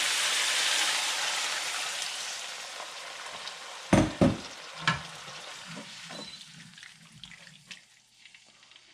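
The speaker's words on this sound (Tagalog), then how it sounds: "Ngayon, lagay na natin yung ating chicken broth." Chicken broth poured into a hot pan for pancit bihon canton guisado hisses in a loud, steady sizzle that fades, followed by a few sharp clanks of a utensil against the pan and a quieter bubbling.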